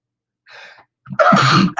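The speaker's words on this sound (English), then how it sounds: "Don't sneeze when you've got a sore nose." A single sneeze, preceded by a soft sharp inhaled gasp, then a loud explosive burst lasting about half a second, close to the listener, from a person with a sore nose.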